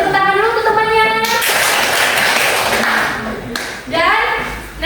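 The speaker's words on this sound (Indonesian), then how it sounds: "Beri tepuk tangan dulu untuk temannya." Classroom students burst into a brief round of clapping for a classmate, loud and dense for a few seconds, with a teacher's voice talking before and after.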